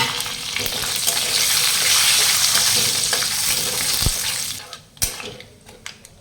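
Green chillies, curry leaves and cashews sizzle loudly and steadily in hot oil, with a continuous bright crackle that fades near the end as a few sharp clinks of a utensil against the pan ring out.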